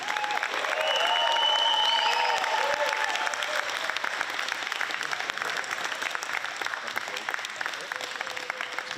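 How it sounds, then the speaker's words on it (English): Audience applause welcoming tennis star Roger Federer at a Vancouver event, loud and dense in the first few seconds and then thinning to scattered clapping. "Round of applause. Warm welcome to Roger Federer."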